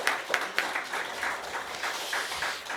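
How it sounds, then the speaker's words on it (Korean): A church congregation claps to welcome first-time visiting families during a Sunday service: a few sharp claps at the start, then soft, scattered clapping that stays fairly faint throughout. "우리 박수로 환영하겠습니다."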